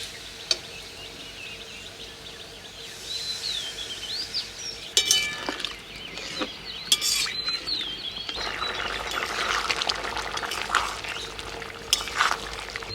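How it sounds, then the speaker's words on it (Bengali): Water pours into a pan of jackfruit cooking in a village kitchen, a close splashing, gurgling pour that builds over several seconds, with a few clinks of utensils and faint bird calls in the background. "এচোরটা প্রায় সিদ্ধ হয়ে এসছে এবার দিয়ে দিচ্ছি জল"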